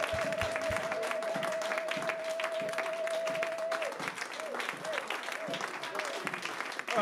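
A church congregation breaks into sustained, dense applause, clapping steadily throughout at moderate loudness with a faint tone underneath early on.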